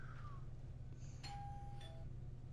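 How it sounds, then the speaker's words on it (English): A doorbell chimes once with a sustained electronic tone over a steady low hum, quiet and somewhat distant. "My doorbell. We ordered dinner."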